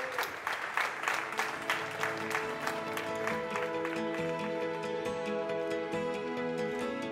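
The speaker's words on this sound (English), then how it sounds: "Let's get a big round of applause for EPT 13 Malta 25K High Roller Champion, David Yan." Crowd applause for the EPT 13 Malta 25K High Roller poker champion, rhythmic clapping heard under loud music with strong tonal chords, the clapping fairly faint against it.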